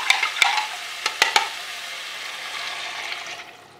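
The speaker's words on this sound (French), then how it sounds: "je mélange bien comme il faut pour être sûr que le cube soit bien dilué" A spoon stirs pumpkin soup with a dissolving stock cube in a pot, giving a few sharp clinks against the pot over a soft, continuous bubbling simmer nearby.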